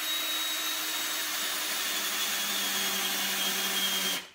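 Power drill boring into a real baseball with rubber inside, a continuous whining motor grind held steadily for several seconds before cutting off abruptly, heard close with no talk.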